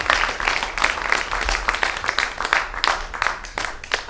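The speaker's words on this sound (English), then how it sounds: "Please give yourselves a huge round of applause" An audience applauds at a South Asian theatre festival, a steady patter of many hands clapping throughout, moderately loud and fairly even, with no clear voices over it.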